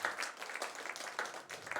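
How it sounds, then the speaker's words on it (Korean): A church children's gathering bursts into brief, fairly faint applause, a short scatter of clapping hands heard at a distance for under two seconds. "오늘 새로운 친구가 있는데 박수 한번 해줘요."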